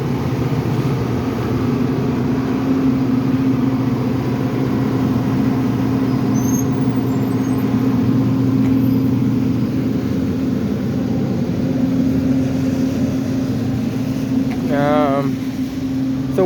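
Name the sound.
large utility power generator running on the street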